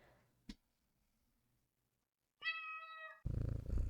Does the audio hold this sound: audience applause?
no